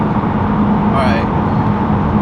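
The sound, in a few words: straight-pipe Ford Mustang GT exhaust drone at 3,000 RPM on highway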